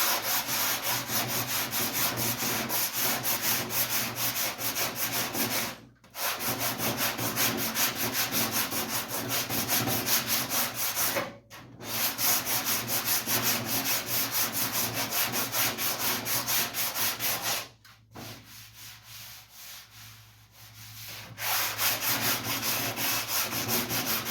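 Body filler on the hood of a 1956 Chevy is sanded by hand, making a loud continuous raspy scrubbing that stops briefly three times before resuming, close and with no talking.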